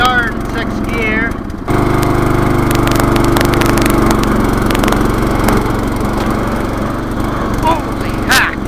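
A modified lawn mower engine running in sixth gear gives a loud, steady, close drone that barely dips for the whole stretch. A brief cut comes early, then the engine runs on evenly.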